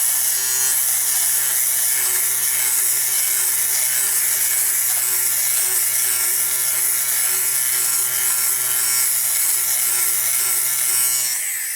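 A Philips GC026 fabric shaver runs continuously against a sweater, a steady high-pitched motor whir with a buzzing blade hum and a light rasping as it clears pills, loud and close, then easing off at the end.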